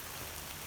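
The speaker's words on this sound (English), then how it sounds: "You can hear the rain. I'm walking in the rain." Steady rain falls on an Appalachian Trail path near Port Clinton, Pennsylvania, heard while walking. It is a dense, even hiss of drops that holds unbroken and fairly loud through the whole moment, with no voices.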